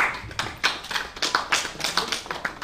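Audience applause at a Prabha Khaitan Foundation literary event in Jaipur, a burst of brisk, irregular claps from a moderately sized crowd, fairly close and lively throughout with no voices over it.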